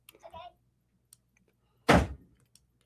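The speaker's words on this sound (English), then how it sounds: "Close the door." A door is shut indoors with one loud, solid thunk, preceded by a brief, faint voice and otherwise quiet surroundings.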